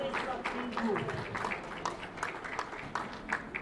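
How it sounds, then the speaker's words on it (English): Audience applause for the Dean as he walks to the head table at a formal dinner, steady broadband clapping under a speaking voice. "Please a round of applause for the Dean as he comes to the head table."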